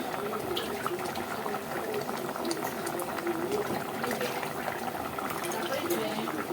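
Goat head curry gravy simmers on a stove, bubbling and popping continuously in a steady, close, moderately loud boil without pause.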